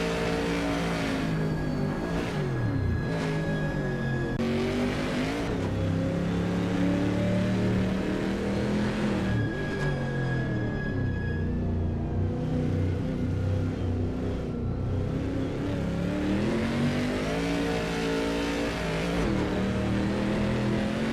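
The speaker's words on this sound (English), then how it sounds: "the sounds of cheering fans should just barely be audible over the roar of the engine" A video game race car engine roars continuously at Le Mans, revving up and down through gear changes, with a steady droning tone and no talking.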